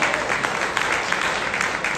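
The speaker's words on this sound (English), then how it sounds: "You should clap that one." A crowd at a community campaign kick-off event claps loudly and continuously for a couple of seconds, a close, dense burst of applause with no speech.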